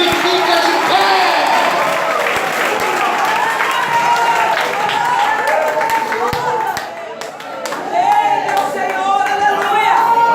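A church congregation claps loudly and continuously during worship, with many raised voices praising over the rhythmic applause and a short lull partway through.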